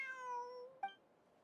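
A cat in the video game Genshin Impact gives a single drawn-out meow, clear and fairly close, followed by a short sharp second mew near the end. No one speaks.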